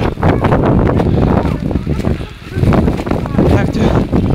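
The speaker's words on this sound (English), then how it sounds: "Now there is wind." Wind gusting during a snowstorm in Rome, a loud, continuous rumbling buffet across the microphone that dips briefly and surges again, with a person talking over it.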